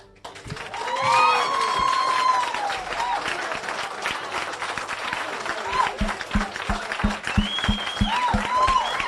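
A studio audience applauds and cheers for a spelling bee winner on a broadcast show, loud sustained clapping with whistles, shifting to a run of sharp rhythmic claps or thumps near the end.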